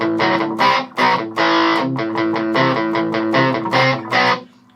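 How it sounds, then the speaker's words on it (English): An electric guitar runs through an Electro Harmonix Pocket Metal Muff distortion pedal set to a biting overdrive, playing a loud, close riff of chopped chords and short bursts with brief gaps. "Got a nice overdrive to it with just a bit of extra bite."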